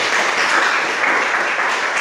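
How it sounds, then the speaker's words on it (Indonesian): A class of students applauding a classmate, dense continuous clapping from many hands, loud and even for the whole stretch. "Mari kita tepuk tangan untuk adik Novi"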